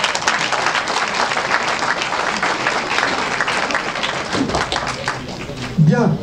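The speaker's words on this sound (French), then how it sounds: "on peut encore les applaudir" Audience at a 2017 New Year's wishes ceremony in Essert gives sustained, dense applause, many hands clapping steadily for several seconds, with a brief voice near the end.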